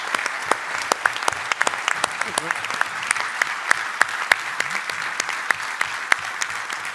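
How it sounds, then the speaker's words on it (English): A conference audience at a military land forces event gives a steady round of applause for a panel of leaders, with many overlapping claps and sharper individual hand claps standing out, fairly even throughout. "please, round of applause for this tremendous group of leaders"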